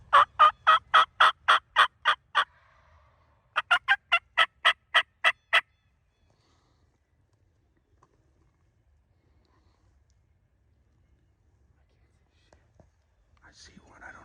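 A wild turkey gobbler calls on a rainy Michigan morning: two rapid, loud bursts of gobbling, each a quick run of pulses, followed by a long quiet stretch with faint whispering near the end.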